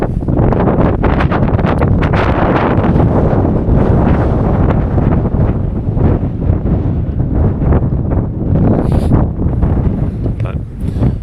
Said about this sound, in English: I'm trying to stay out of the wind behind these in these little pine trees here.